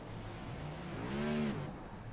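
A race car engine revs in a stock car racing video game at Martinsville Speedway, one throttle blip rising and falling over about half a second above a steady low engine drone.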